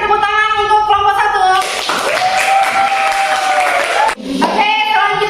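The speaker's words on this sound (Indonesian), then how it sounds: "Ya, berikan tepuk tangan untuk kelompok" Audience applause breaks out in a classroom after a student group finishes its presentation during an arts-and-culture teaching assessment. A steady wash of clapping lasts a few seconds, with a voice speaking before and after it.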